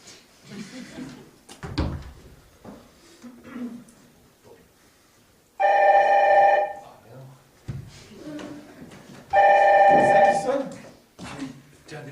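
A telephone rings indoors in two separate long electronic bursts several seconds apart, loud and near, between stretches of people talking and small bumps of movement.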